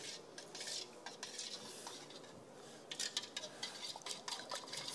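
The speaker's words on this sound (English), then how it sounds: "we give that a stir or a whisk" Caribbean punch being whisked in a bowl at a bar seminar, quick metallic scraping and clinking strokes in bursts against a quiet room background.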